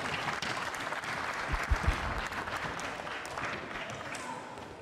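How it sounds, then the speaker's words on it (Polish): Audience at an international teachers' conference on school handball applauds, a steady wash of clapping from many hands lasting throughout, with a few louder claps standing out midway. "Brawa."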